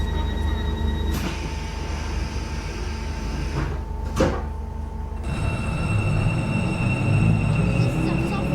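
Class 456 two-coach train runs in the Project Transit video game, a steady rumbling hum with whining tones, a door-like clunk midway and rising motor pitch toward the end.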